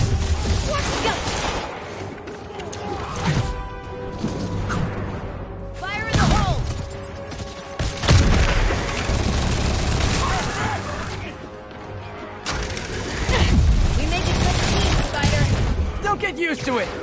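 Gunfire and crashing impacts during a heist fight in Marvel's Spider-Man, bursts of shots and booms rising over a busy mix, with voices talking across much of it.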